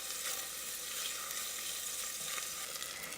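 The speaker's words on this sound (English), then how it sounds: "we'll saute that for 3 to 5 minutes until the" Thinly sliced onions sauté in a pan for cream of broccoli soup, giving a steady even hiss of frying with faint stirring, no talk.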